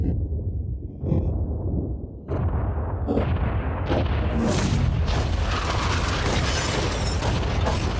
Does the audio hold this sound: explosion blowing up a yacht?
yes